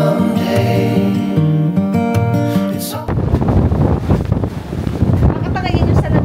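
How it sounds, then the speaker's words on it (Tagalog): Strong wind buffets the microphone outdoors in Taiwan, a loud broadband roar that takes over after a few seconds of music and continues steadily to the end. "Grabe ang hangin."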